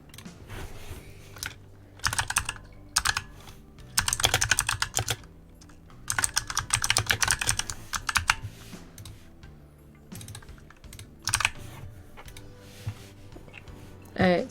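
Bursts of typing on a computer keyboard during 3D clothing mesh work for The Sims 4, clusters of quick close key clicks separated by pauses, with a quiet background.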